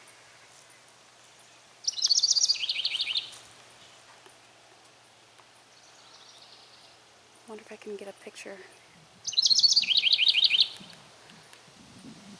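Loud bursts of rapid chirping come from a bird nesting in a garden planter, two clear outbursts a few seconds apart, with a person talking briefly between them.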